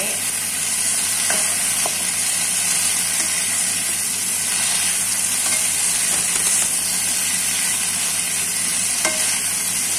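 Carrots, potatoes and spring beans for a vegetable spring roll filling fry in a pan with a steady, fairly soft sizzle and hiss, a few faint clicks of stirring scattered through.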